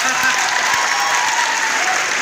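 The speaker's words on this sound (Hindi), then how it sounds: "तालियां भी वही बजाते हैं जिनकी तालियों में दम होता है" Audience applause at a college annual function (Chaudhary Nathu Singh Degree College, Karhal), a steady, dense wash of clapping from a crowd that fills the whole stretch at an even, fairly loud level.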